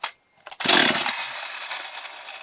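An old barn-find chainsaw without a primer, pulled by hand: a couple of short pull-cord rasps, then the engine catches and runs with a loud, close, buzzing idle.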